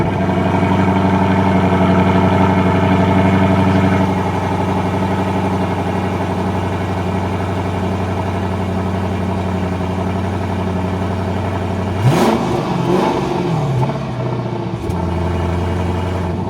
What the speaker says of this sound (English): I think it's time to get this thing out on the road and show you what it's like to drive